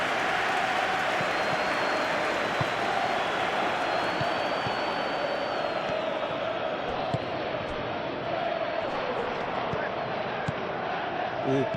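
A simulated stadium crowd in the PES 2021 football video game, during a Chelsea versus Tottenham match, roars and murmurs in a constant, dense wash that fills the whole stretch without a break.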